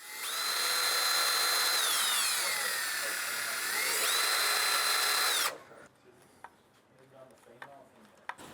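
A power drill bores a 2.5 mm pilot hole for 12 mm 7G screws while fitting a door latch to a pedal car, one long loud whine about five seconds that dips and rises in pitch, then stops, leaving quiet clicks and handling noise.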